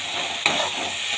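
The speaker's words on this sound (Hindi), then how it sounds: "मैं मसाले को अच्छे से भून रही हूँ।" A fish masala of mustard seed, garlic, black pepper and cumin paste fries in a pan with a loud, steady sizzle. It is stirred once with a brief scrape near the start, up close and with no voices.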